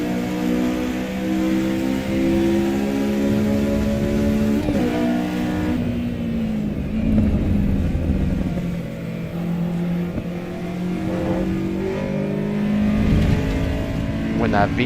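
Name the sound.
VTEC engine revving, from video game AC Evo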